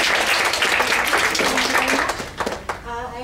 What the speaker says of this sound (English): if you would like to applaud for them